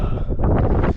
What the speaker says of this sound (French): il y a du vent qui s'est levé évidemment